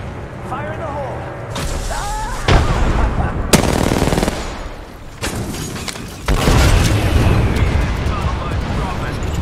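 Rapid bursts of automatic gunfire and heavy booming grenade blasts in the video game Apex Legends, loud and close, with sharp cracks separated by short gaps.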